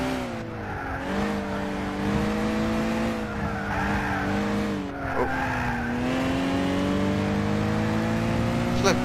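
A rally car in the Gran Turismo 6 racing game revs loudly and steadily, its engine tone rising and dipping as it shifts, with tire squeal and skidding on a slippery surface.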